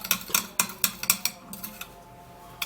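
A utensil clinks and taps against a bowl while stirring a cucumber and baking soda mixture, a quick run of sharp, close ticks that slows and thins out toward the end.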